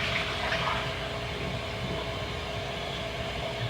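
Water runs steadily from a tap while coffee mugs are washed out, a continuous close rushing hiss with little change and no voices.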